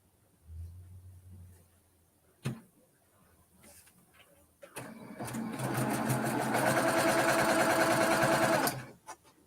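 A sewing machine stitches wool block pieces, starting with a few short bursts and clicks, then running steadily in a fast, close whirring rhythm for several seconds before stopping.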